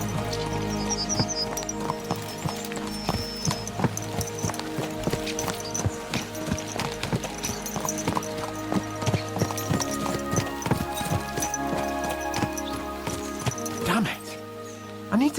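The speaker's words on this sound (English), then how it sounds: "Let's really spur these horses on, eh?" Horses' hooves clip-clopping in a fast rhythmic gallop in the medieval game Kingdom Come: Deliverance II, steady and close, with someone talking over them and a brief neigh.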